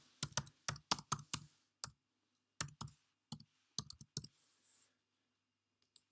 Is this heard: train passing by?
no